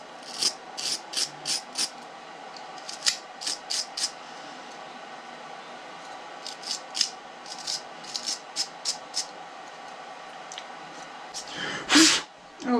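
Crud is scraped and rasped out of the bearing seat of a Hobbywing RC motor during a rebuild: a series of short, close scratching strokes in quick bursts, pausing briefly and ending in a louder rub.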